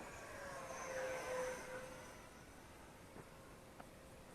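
An Eachine F-16 RC jet with a 550mm wingspan and 50mm EDF flies in to land, its faint high-pitched ducted fan whine rising briefly then fading into distant outdoor background, no talking.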